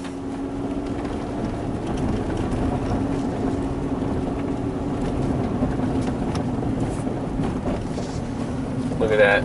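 A Ford Escape drives along on a test run after ABS tone ring and ball joint repairs, its steady road and engine drone with a constant low hum filling the cabin, rising slightly at the end.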